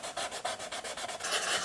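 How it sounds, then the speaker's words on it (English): Hand sanding on wood for a Gibson-style guitar build, a close rhythmic rasping of about eight quick back-and-forth strokes, blurring into steady scrubbing at the end, with no talking. "I'm gonna keep on sanding."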